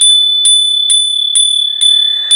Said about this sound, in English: I've been using the bell a lot